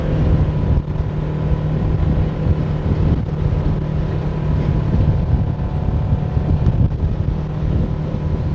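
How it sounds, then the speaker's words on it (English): Strong wind gusts across an open meadow on a mountain off-road track, a loud continuous rumbling roar buffeting the microphone alongside a low engine drone. "Yep, it's getting windy."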